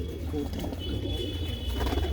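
Pigeons kept by a fancier coo and shuffle close by amid a busy, low rumbling background, the soft calls blending into steady noise throughout.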